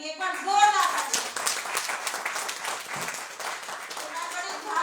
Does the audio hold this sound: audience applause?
yes